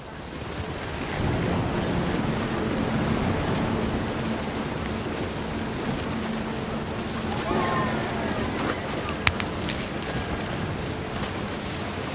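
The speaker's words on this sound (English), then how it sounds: "The thunder sounded much too close and full of angry power." Storm thunder rumbling in the video game What Remains of Edith Finch, a steady low roar of wind and surf-like noise that goes on throughout, with a brief sharp crackle near the end.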